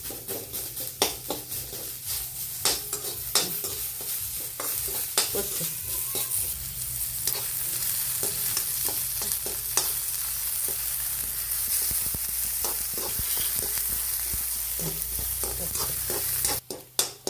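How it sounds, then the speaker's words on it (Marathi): Chopped onion sizzles steadily in a little oil for a Marathi katachi amti, with frequent scraping stirs and utensil clacks against the pan throughout; the frying is close and constant, with no talking. "कांदा चांगला लाल भाजून घ्यायचा आमटीला"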